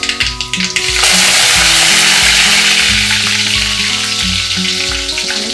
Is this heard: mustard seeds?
yes